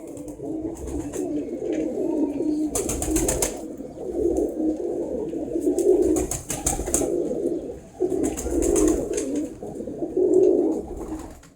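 Pigeons coo repeatedly in low, rolling phrases, close by, with a few brief bursts of wing flutter between calls.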